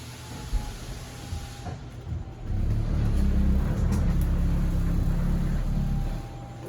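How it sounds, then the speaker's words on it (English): Motors on an RV slide-out extend the slide, beginning as a quiet hum and rising after a couple of seconds to a steady, louder grinding drone before easing off at the end. "you're going to hear those motors wind up and the lights kind of dim"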